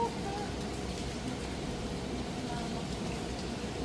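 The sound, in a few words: heavy rain in Boracay during habagat season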